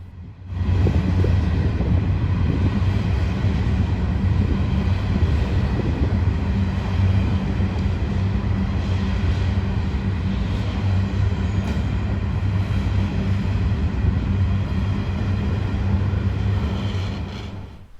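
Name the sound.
long coal freight train accelerating past station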